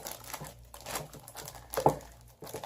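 Crinkling and crushing of a plastic package of trail food containing pasta and tuna, soft irregular rustles and crackles at close range, quiet and intermittent.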